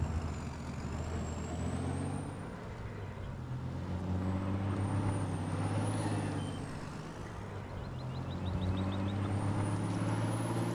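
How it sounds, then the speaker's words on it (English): A heavy truck engine in the video game Farming Simulator 19 idles and rumbles steadily, with sharp air brake hisses, a brief high whine and a quick run of beeps near the end. "Replace the sound of air brakes"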